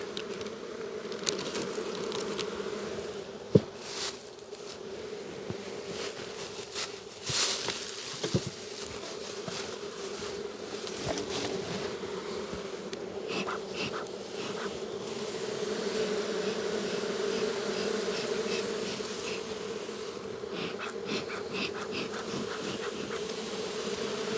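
Dense swarm of honeybees buzzing close by at a hive being fed fondant, a steady droning hum with occasional louder passes of individual bees, continuous and without talk.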